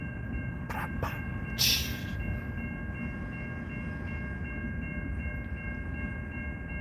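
A large train rumbles past at close range with a continuous low roar, a few sharp metallic squeals early on, then settles into a steady drone as it slows toward a stop, with no voices.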